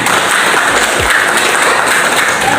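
Applause from students in a classroom during an Islamic studies lesson on funeral rites, a dense steady wash of clapping filling the whole moment, fairly loud and close.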